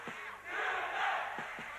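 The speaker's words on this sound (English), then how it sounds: "The crowd screaming Gurkan, the big Turkish community here backing up their fighter" Spectators at a 1995 kickboxing eliminator final, many from the Turkish community, roar and chant for their fighter in a sustained crowd yell that swells and holds in a large hall.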